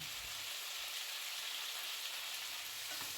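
Tomatoes sizzle and crackle steadily in a hot pan, with faint scraping of stirring now and then, no voices.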